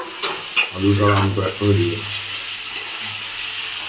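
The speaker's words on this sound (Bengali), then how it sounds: "আর আলুটা আর আমটা, আম আর টমেটোটা ফ্রেন্ডস দিয়ে দেওয়া হচ্ছে" Potatoes, mango and tomato hit a hot pan of spiced masala with a loud burst of sizzling and stirring, settling into a steady frying hiss.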